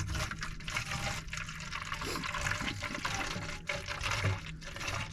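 Water is poured into a container to fill P-traps at an off-grid cabin, a steady splashing, gurgling flow with faint fluctuations, fairly quiet and without talk.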